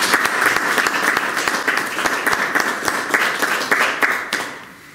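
Sustained applause at a town council inauguration as a new deputy mayor takes office, steady dense clapping throughout that tapers off at the end.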